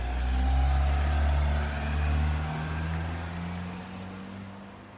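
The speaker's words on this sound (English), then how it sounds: "the two sisters climbed into the car and drove away" A car pulls away, its engine hum rising, then fading steadily as it drives off, alone and fairly close at first.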